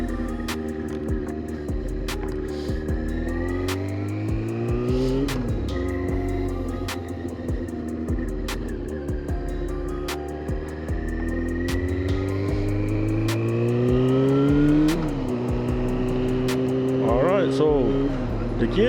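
A 2002 Yamaha YZF R6 motorcycle engine hums while riding, its pitch climbing and dropping through gear changes, with someone talking over the continuous engine drone and wind.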